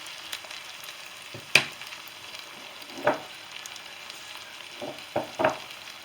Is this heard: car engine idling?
no